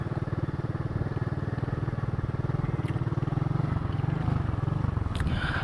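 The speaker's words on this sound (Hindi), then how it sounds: "फिर वो जाके चली है उसकी बाइक।" A motorcycle engine idles steadily after being push-started among Afghan refugee homes in Karachi, a close, even, low chugging rumble throughout.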